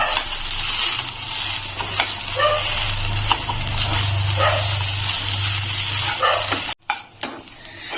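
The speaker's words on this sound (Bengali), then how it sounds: "এই ঘিয়ের সঙ্গে নারকেলটাকে হালকা একটু ভেজে নেব" Grated coconut sizzles steadily as it fries lightly in ghee, with occasional stirring scrapes and a low hum beneath, ending abruptly near the end.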